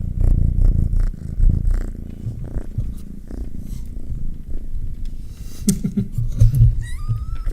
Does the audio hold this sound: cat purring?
yes